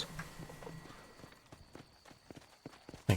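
Horse hooves in the Western video game Red Dead Redemption, a faint, uneven clip-clop of steps under quiet game ambience, ending in a louder burst.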